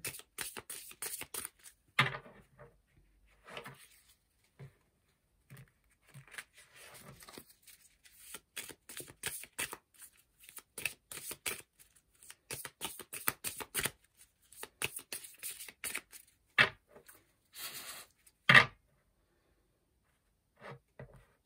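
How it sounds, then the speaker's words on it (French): A deck of oracle cards is shuffled by hand in a quiet room, with irregular bursts of crisp riffling and flicking separated by short silences, close and fairly soft. "Je mélange les cartes"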